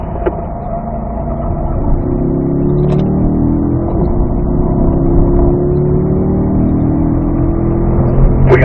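A race car accelerates along a track, its engine loud and continuous with pitch climbing steadily through the gears, heard from close inside the car.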